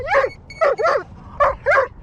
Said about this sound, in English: And I got a dog, which wants to play all the time.